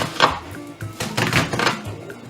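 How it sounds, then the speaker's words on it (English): Knife roughly chopping an onion on a cutting board, a quick irregular series of close, crisp thuds with short pauses between strokes. "So I'll roughly chop the onion as well"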